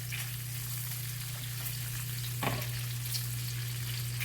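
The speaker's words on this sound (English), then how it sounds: "I'm going to flip the sausage bacon." Sausage and bacon sizzle in a pan while shrimp and grits are being cooked, a steady close frying hiss with a brief louder crackle midway and no talking.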